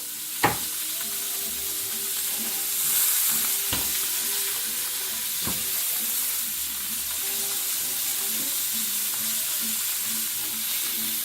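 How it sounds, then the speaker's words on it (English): A steak sears in a hot pan with a steady, bright sizzle throughout. A few sharp clicks or taps come early on, and a faint tonal hum sits underneath. "Oh, look at that gorgeous sear."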